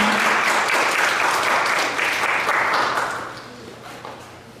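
A church congregation applauds to welcome the pastor, dense steady clapping that holds for a few seconds and then fades away.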